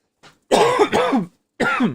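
A person clears their throat and coughs close to a microphone: a small faint burst, then two strong rasping throat-clears, a pause, and another harsh cough-like burst, with no talking.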